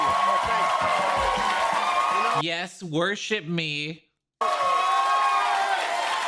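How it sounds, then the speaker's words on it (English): An audience laughs, claps and cheers loudly; the applause breaks briefly while someone speaks, stops in a short silence, then returns just as loud. "All laugh and clap and cheer."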